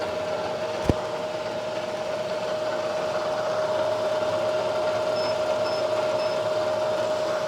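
A lathe runs steadily at 800 RPM while a CNMG-insert boring bar is touched off against the workpiece, making a continuous even mechanical hum with a faint tonal whine and one sharp click near the start.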